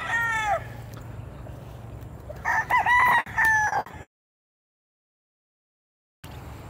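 White gamecock stags at Casmina Game Farm crow nearby, with one short call followed by a louder full crow, then a gap of silence before faint farm background returns.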